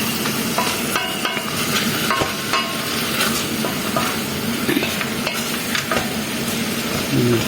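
Beef and a large heap of onions sizzle and fry in a pan with no oil while a spoon or spatula scrapes and stirs now and then, giving a steady crackling hiss with sharp knocks.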